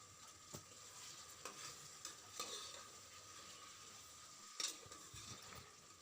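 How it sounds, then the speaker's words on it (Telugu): Mixed vegetables frying in plenty of oil for a Telugu-style mixed vegetable curry, a soft steady sizzle with occasional stirring scrapes of a utensil in the pan. "నూనెలో ఫ్రై చేయాలి కాబట్టి ఈ వెజిటేబుల్స్ అన్నీ నూనెలో చక్కగా ఫ్రై అవ్వాలి"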